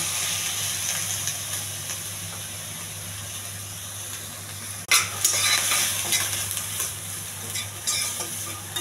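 Boiled peas fry in a pan with chili powder, turmeric and salt, a constant sizzling hiss that swells sharply midway as stirring begins, with scraping and clattering of a utensil against the pan, close and without speech.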